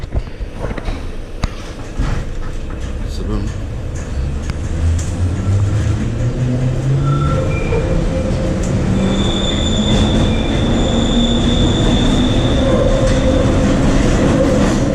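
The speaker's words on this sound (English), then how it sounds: "This is a Piccadilly line train to Harrow and Wealdstone." A London Underground Piccadilly line train rumbles steadily along the track, with rising motor whine and occasional high-pitched wheel squeal, loud and continuous from inside the carriage.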